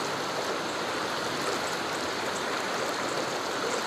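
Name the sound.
stream water while wading across a river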